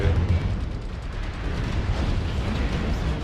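Rumbling volleys of incoming missile explosions in the mech combat game MechWarrior Online, a dense, loud barrage of booms and bursts running together for over three seconds.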